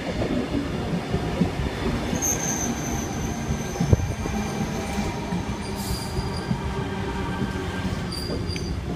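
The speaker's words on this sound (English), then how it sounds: "Huh, it's a Tangara." A Sydney Trains Tangara electric train, set T73, on the once-daily Helensburgh service passing at a station platform, a loud steady rumble of wheels on rail with high squeals and clicks throughout.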